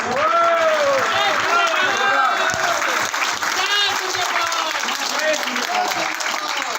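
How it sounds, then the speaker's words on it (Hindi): Loud, continuous applause from a crowd at a network marketing gathering, with cheering voices and shouts rising over the clapping throughout. "जबरदस्त जोरदार तालियां।"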